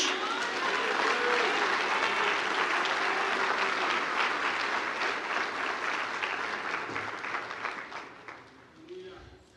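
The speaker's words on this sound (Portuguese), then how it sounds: "Você pode aplaudir a Jesus." A church congregation applauds in a sustained wash of clapping that gradually fades out over several seconds, fairly distant and reverberant.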